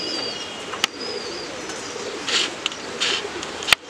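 Young loft pigeons give intermittent soft coos at moderate distance, broken by a few sharp clicks and brief wing flutters.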